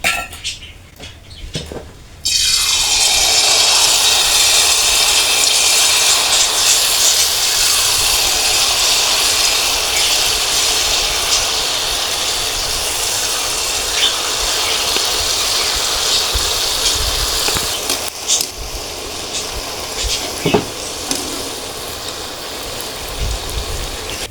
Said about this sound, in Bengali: এখন জিলিপিগুলো আমি ভেজে নেব।